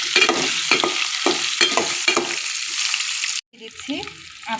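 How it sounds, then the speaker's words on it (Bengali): A teaspoon of fennel seeds fried lightly in a pan for a sour, spicy, sweet amra pickle, sizzling loudly and close with rhythmic spatula scrapes, then a brief pause and a quieter sizzle. "1 চা চামচ মৌরি, একটু হালকা ভেজে নিচ্ছি।"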